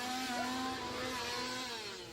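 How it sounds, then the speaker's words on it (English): A chainsaw, used as a scare at a Halloween horror event, drones steadily with a high whining engine tone that wavers slightly over about two seconds, fairly faint and distant with no voices. "The easiest scare, and probably the most effective scare even today, is the chainsaw."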